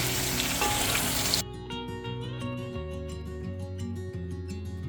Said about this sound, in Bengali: আলুটা আমি ভেজে নিচ্ছি।